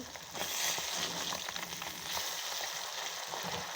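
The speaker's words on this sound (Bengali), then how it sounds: "লাল লাল করে একবার ভেজে নেবো।" Food frying in a pan in a home kitchen, being browned until reddish for a meal served without fish curry; a steady, close sizzle with brief louder crackles near the start, no voices.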